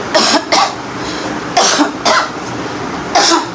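Several harsh, close coughs come in separate bursts, a pair followed by another pair and a final single one, from someone with a cold, with a faint background hum between them.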